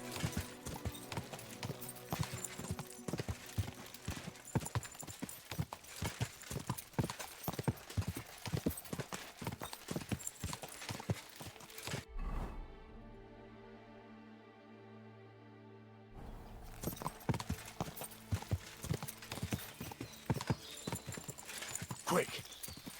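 Horse hooves in the video game Kingdom Come: Deliverance 2 clop in a brisk, steady rhythm, loud and close, stopping for a few seconds of quiet musical tones before the galloping resumes, with a brief spoken line.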